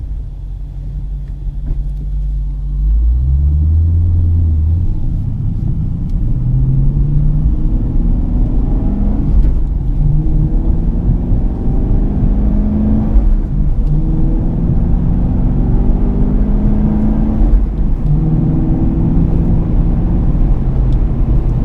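A manual-transmission car slows from around 1,000 rpm, the clutch going in for a downshift to third, then shifting to neutral and braking to a stop, heard as a steady low engine rumble that holds throughout at close range.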